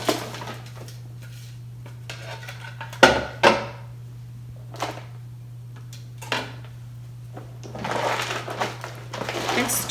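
Granola bar ingredients of maple syrup, egg, vanilla and dry mix stirred in a pan, with scattered scrapes and clinks of a utensil against the pan over steady background hum, a couple of sharper knocks midway.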